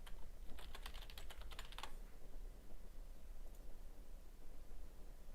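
Quick keystrokes on a computer keyboard as a password is typed in, a dense burst of clicks in the first two seconds, then quiet steady background hiss.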